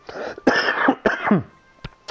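Several harsh throat-clearing coughs in quick succession, close and fairly loud, separated by brief pauses, with a couple of softer rasps near the end.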